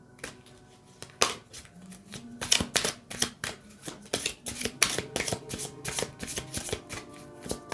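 A deck of Anka oracle cards is shuffled by hand, with repeated quick riffling and flicking bursts, close and fairly quiet, and no voices.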